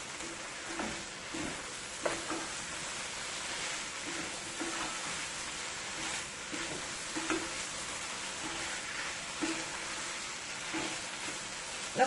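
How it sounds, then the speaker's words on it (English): Okra, drumstick pods and mango sizzle and fry in a pan, with a steady hiss broken by recurring clatter and shuffle as the pieces are stirred and tossed throughout. "okra, saijan, and our mangoes. Let's add all of that into the pan there."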